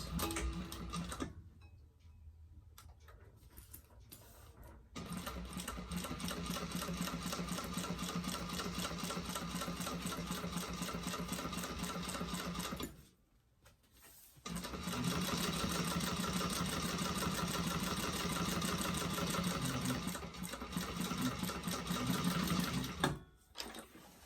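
A sewing machine top stitches a seam on a bag pack at a longer stitch length, a steady close mechanical whir with rhythmic needle clatter, broken by two short stops before resuming.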